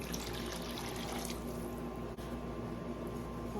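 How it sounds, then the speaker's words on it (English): Chicken broth pours steadily into a pot, a soft continuous splashing trickle with faint kitchen background noise. "A little bit more of the chicken broth."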